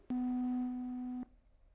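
A telephone busy signal sounds after a caller's line drops, a single steady electronic tone held for about a second and then cut off, clear and alone.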